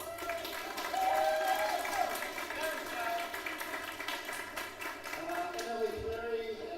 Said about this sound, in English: Big clap again to Michelle.